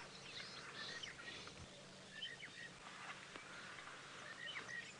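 Bird calls on an African savanna during a sunrise safari drive, several faint, short chirps repeating against a low outdoor background hum and a noisy wash, heard at a distance.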